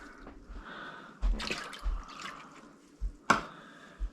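Small splashes and drips of water land in a bowl of fish brine, several brief irregular plops and one sharper splash, close and quiet.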